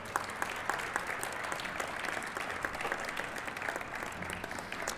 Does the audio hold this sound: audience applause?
yes